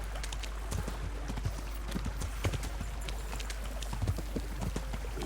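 Brisk, continuous clip-clop of horse hooves at a steady trotting rhythm in the video game Kingdom Come: Deliverance, close and moderately loud, over a low constant hum.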